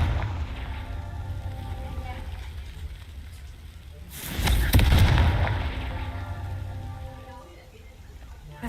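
A Confringo fire spell cast in the video game Hogwarts Legacy, a sudden burst of crackling, explosive noise lasting about a second over steady background game sound, with a voice speaking around it.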